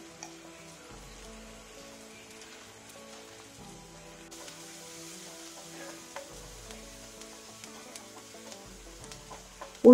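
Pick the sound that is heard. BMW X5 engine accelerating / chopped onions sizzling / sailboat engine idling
chopped onions sizzling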